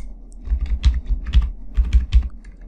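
Quick bursts of keystrokes clatter on a computer keyboard, close and crisp, in short uneven runs with brief pauses between words.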